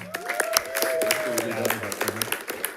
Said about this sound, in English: give him a round of applause for that as well